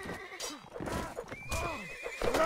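A horse in a video game neighs and whinnies several times with clip-clopping hooves, fairly loud and close amid busy game effects.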